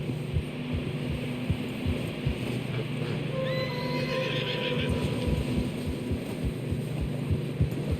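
A horse in a video game whinnies once amid a constant windy rumble, with scattered hoof clops and thuds throughout as horses struggle through fresh snow.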